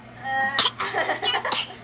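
A few short, harsh coughs in close succession, close to the microphone, with a faint hum underneath.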